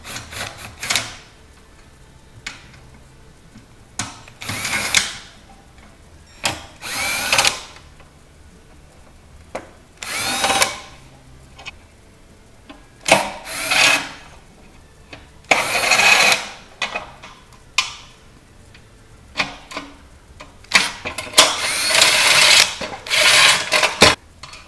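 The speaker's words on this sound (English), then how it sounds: "let's start by removing these Phillips head screws here" Phillips head screws backed out of a Sub-Zero refrigerator's leveling feet with a power drill, short bursts of whirring motor repeated many times with quiet pauses and small clicks between, close by, no speech.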